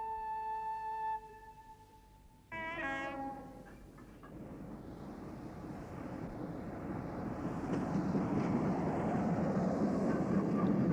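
A train horn sounds a short steady tone, then a brief whistle as the train starts moving, followed by a steadily building rumble and hiss of rolling rail cars that grows louder as the train gathers pace.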